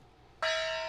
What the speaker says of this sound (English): Where's my gong?